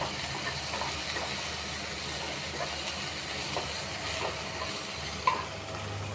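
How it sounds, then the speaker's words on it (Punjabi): Ginger and green chili sizzling in a hot pan, a steady close frying hiss with light stirring scrapes and small clinks throughout, no talking. "ਬਸ ਹੁਣ ਅਦਰਕ ਤੇ ਆ ਹਰੀ ਮਿਰਚ ਇਹ ਪਾ ਲਿਆ"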